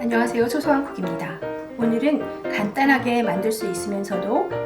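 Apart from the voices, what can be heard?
No everyday noises stand out.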